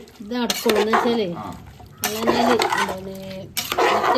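Jackfruit being stirred into meat masala in a pot, with a spoon clattering and scraping against the metal in repeated bursts while people talk over it.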